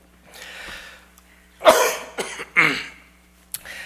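A male pastor produces a run of dry, harsh coughs in a church sanctuary, a breathy lead-in then three sharp close bursts in quick succession with a final small catch, no other voices around.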